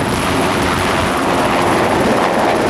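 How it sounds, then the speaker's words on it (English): A helicopter on a tour flight over Palm Island, Dubai, produces a loud, steady, close rotor and engine roar mixed with rushing wind across the whole clip. "we took a helicopter tour with Sultan Ahmed bin Sulayem."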